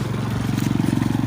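A Daihatsu Xenia Xi with a modified HKS stainless exhaust idling close by, a steady low, rhythmic burbling rumble with a slight pulsing beat.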